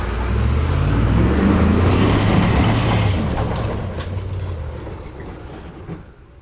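A heavy truck pulls out at a building construction site, a loud low engine rumble that holds steady and then slowly fades as it moves off.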